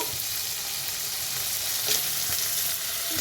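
Potatoes and ridge gourd, with prawns, frying and being stirred in a pan, a constant close sizzle broken by a few soft scraping strokes, no voices.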